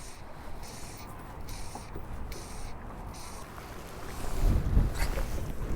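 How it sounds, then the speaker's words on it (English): Strong gusty wind buffets a fishing boat on Rutland Water, a constant roar of wind noise with lapping water, swelling louder near the end. "that wind is just awful there"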